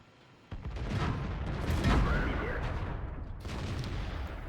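A tank cannon fires at a T-34 in World of Tanks, a single sharp boom followed by a long, rumbling roar that fades slowly, with battle noise behind it.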